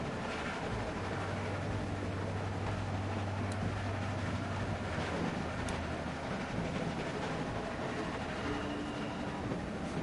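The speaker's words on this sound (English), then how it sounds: "Stop the train." A moving train in The Walking Dead video game gives a steady, continuous low rumble and rattle with no talking.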